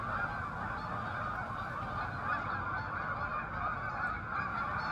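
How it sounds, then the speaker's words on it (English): Many migrating geese, greater white-fronted geese among them, honk together in a dense, constant clamor at a recreation park in Malone, New York, a flock heard from a moderate distance with no talk. "Can you see the two greater white-fronted geese in this video?"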